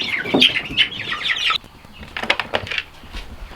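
Chickens on a homestead farm clucking and squawking up close, a busy burst of bird calls followed by softer chatter and scratching.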